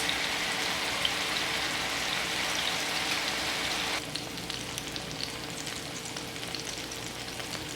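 Salmon pan-searing in a frying pan gives a continuous crackling sizzle with fine spattering pops. It drops to a quieter, sparser crackle halfway through.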